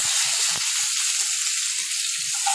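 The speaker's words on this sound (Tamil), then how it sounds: "இப்போ கொஞ்சம் ஆனியன் வதக்கிக்கோங்க" Onions sautéing in hot oil for a village-style spicy chicken kulambu: a steady, bright sizzle runs throughout with a few faint soft knocks underneath, and no talking.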